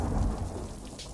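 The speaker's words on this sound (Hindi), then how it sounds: "एकदम से बादल गरजे" Thunder rumbles through a rainstorm, a low, heavy roll lasting about a second over steady rain noise with no voices.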